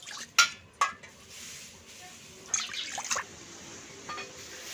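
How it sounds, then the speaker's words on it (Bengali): Water poured into a wok in a home kitchen before raw mangoes are boiled, with two sharp metallic clinks of the pan followed by a soft splashing pour, faint and close. "কড়াই জল দিয়ে দেবো।"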